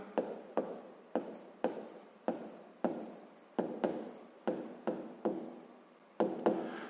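Handwriting a math check for a sixth-grade equation exercise: about a dozen crisp, close strokes and taps in a steady rhythm, with faint scratching between them and no talk.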